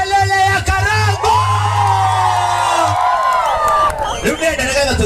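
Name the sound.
stadium crowd cheering and shouting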